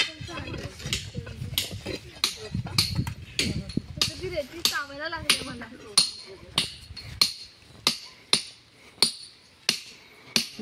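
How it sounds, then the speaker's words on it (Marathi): A hammer strikes stone at a quarry site in a steady series of sharp, loud metallic blows, evenly spaced and close by, preceded by people talking. "पहिलं एकीकडे पूर्ण अशी लाईन मारून घेतात आणि मोठं ठेवून ते हातोडी हे करतात"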